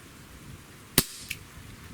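A single sharp gunshot from a Colt Python .357 revolver cracks out loud and close, followed by a faint echo, with no talking.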